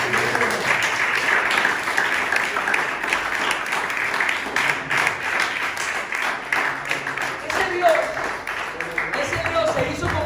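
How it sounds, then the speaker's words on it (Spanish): A church congregation applauds at a sermon, steady dense clapping for about ten seconds with voices and cheers mixed through the crowd. "¿Qué le parece si le damos un aplauso al Señor?"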